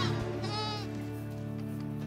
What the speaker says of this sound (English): It's impossible just by looking to tell these goats from their non-spidey brethren.